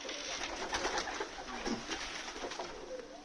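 Young pigeons just let out from a new loft give soft, faint cooing calls over a light background hush, with no voices nearby.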